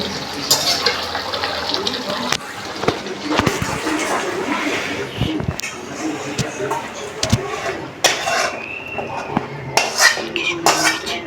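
A pan of mustard pabda fish patturi being taken off a kitchen stove, with close metallic clatter and scraping of cookware and utensils in short irregular bursts, plus a faint watery trickle.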